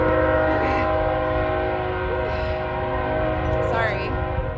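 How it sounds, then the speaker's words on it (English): A loud train passes close by a backyard, with a steady heavy rumble throughout and a few blasts of its horn, the clearest near the end. "Oh my gosh, the train. It's so loud."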